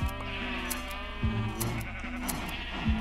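Sheep in the Minecraft video game bleat several times in short, nasal cries spaced about a second apart over a light background hum, with no talking.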